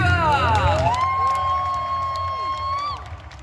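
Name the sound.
crowd applause for Pokemon championship finalists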